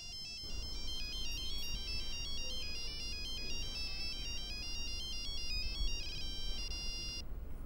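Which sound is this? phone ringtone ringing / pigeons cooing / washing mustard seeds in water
phone ringtone ringing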